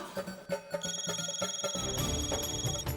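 A telephone rings in a household comedy scene, a steady electronic ring tone sounding over rhythmic background music, moderately loud and with no talk.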